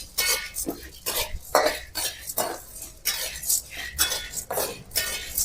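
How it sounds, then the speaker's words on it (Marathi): Spices for Maharashtrian kala masala roast in oil on a low flame, a spoon scraping and clinking against the pan in a regular stirring rhythm, with a cough heard nearby. "हे पण बारीक गॅसवर छान असे हलवून घेऊन भाजायचे"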